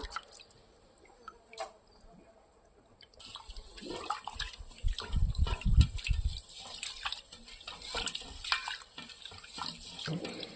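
Raw white rice is washed in water, with soft splashing, dripping and sloshing that grow busier after a quiet start and continue close by without talk.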